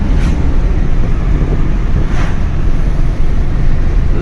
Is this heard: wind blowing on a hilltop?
yes